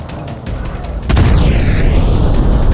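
An explosion in the video game Crysis Warhead, a sudden loud boom about a second in that rolls into a sustained rumbling roar, preceded by scattered shots and distant combat noise.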